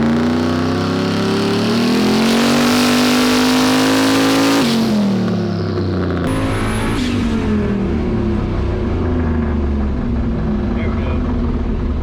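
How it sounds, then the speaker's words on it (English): A turbocharged car engine, tuned on a Holley Terminator X, revs hard toward 7000 rpm, its loud rising drone peaking then dropping back to a lumpy idle, with a voice speaking over the engine. "getting ready to rev a motor to 7 grand"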